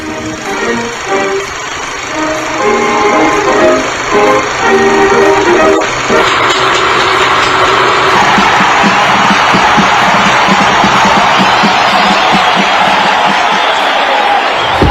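A large crowd at the Santa Beatriz horse racecourse in Lima, 1933, erupts in loud, sustained cheering and applause that swells around six seconds and holds as a dense roar to the end, with an earlier murmur of voices.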